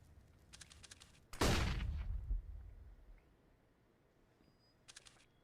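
A single loud gunshot rings out during a Counter-Strike esports match, its sharp crack trailing off over about a second, with faint clicky game sounds before and after.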